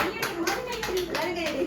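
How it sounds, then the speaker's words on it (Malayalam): Family members clapping hands together at a home celebration of a child's exam result: a quick run of rhythmic claps, close and fairly loud, mixed with voices calling out over them. "കയ്യടി കയ്യടി"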